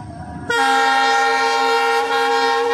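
A train horn blares loudly and steadily after a brief rumble, holding a sustained, close tone for a couple of seconds, on the Dudhsagar rail route.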